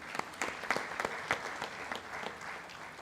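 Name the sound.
audience applause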